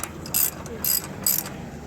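A ratchet tightens an 18 mm bolt on a Ford Explorer 3.5L engine, giving three short, close rasping bursts of clicks in quick succession.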